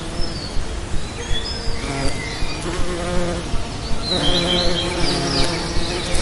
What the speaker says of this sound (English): these bees are so aggressive